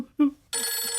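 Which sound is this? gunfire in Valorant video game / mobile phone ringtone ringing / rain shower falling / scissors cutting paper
mobile phone ringtone ringing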